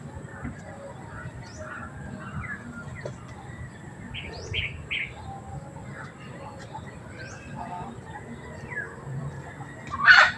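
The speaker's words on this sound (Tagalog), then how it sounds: "Yan po yung tatlo nating available na mga gandang dumalaga mga boss." Young pullets cluck and chirp softly at moderate distance over a low rumbling background, with short bird calls scattered throughout and a sharper call near the end.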